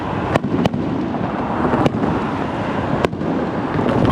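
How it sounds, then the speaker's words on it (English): Fourth of July fireworks over Beach Blvd in Orange County bang in the distance, with a few sharp reports standing out against a steady rumbling wash of crackle and city noise. "look off in the distance, you can see the smoke and the fireworks"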